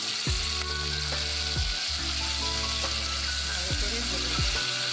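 A loud, continuous sizzle of garlic, red chilli, tomato and onion frying for cauliflower and tomato bhorta, broken every second or so by a scraping stir of the pan, with no one speaking.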